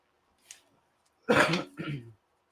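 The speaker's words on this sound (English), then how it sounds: "Still have a little bit of a cough." A soft breath, then a harsh throaty cough followed by a second shorter cough, close and isolated in quiet.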